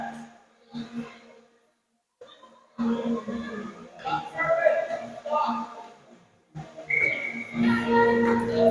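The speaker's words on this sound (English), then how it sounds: "Offsides whistle." At a youth 10U ice hockey game, a referee's whistle signals offsides, sounding as short shrill blasts amid arena crowd noise and a commentator talking over the action.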